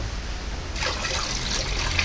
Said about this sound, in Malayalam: നനക്കാൻ ഉപയോഗിക്കുന്ന വെള്ളത്തിൽ അല്പാൽപമായിട്ട് ഒഴിച്ചു കൊടുത്താൽ മതി